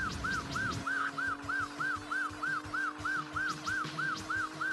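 A police siren from the Chase HQ arcade racing game wails in a steady repeating two-tone cycle over a low engine drone, loud and continuous throughout.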